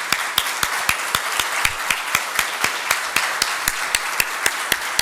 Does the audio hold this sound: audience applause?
yes